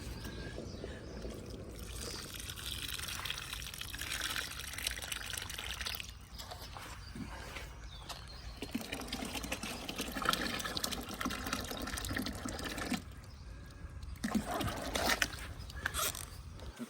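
Water poured out of a plastic worm bed container, a continuous splashing, gurgling pour that comes in uneven surges and pauses, fairly close and steady in level.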